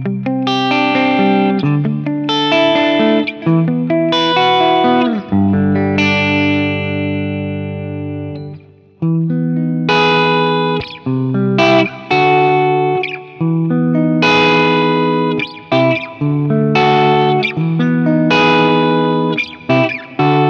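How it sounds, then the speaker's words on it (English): Electric guitar played through a Fractal FM9 modeler with a 2290 delay set to 500 ms, ringing chords and picked notes with echoing repeats, loud and close with no talking. "Really nice, and I really like that 2290 delay."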